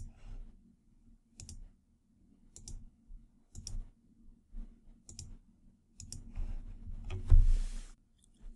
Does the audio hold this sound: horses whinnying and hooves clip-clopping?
no